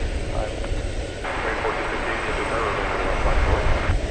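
An American Airlines jet landing at DFW Airport at night produces a loud, steady broadband engine roar, with continuous rushing noise filling the clip and faint radio chatter beneath.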